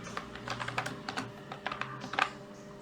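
Email and password typed on a computer keyboard, a quick close run of light irregular key clicks at a fairly quiet level.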